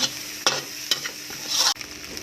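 Rice with fish, fried garlic and fried shallots is stir-fried in a pan, with rhythmic spatula scrapes and knocks over a steady sizzle that runs up loud and then cuts out abruptly.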